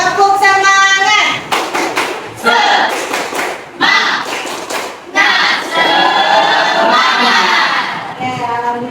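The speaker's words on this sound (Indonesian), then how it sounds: "mari kita tepuk semangat dulu" A classroom of children performs a rhythmic clapping chant, sharp bursts of claps alternating with loud chanted voices in unison, close and energetic throughout.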